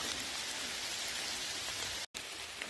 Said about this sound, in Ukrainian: Дощ не зупиняється